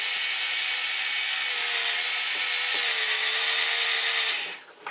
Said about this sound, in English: I'm just going until the drill feels the resistance,